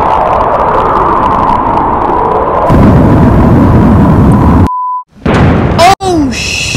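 Bombing in the battle-royale game Rules of Survival: a loud, roaring sustained blast rumbles for several seconds, then cuts out, followed by brief electronic game tones and sweeping effects.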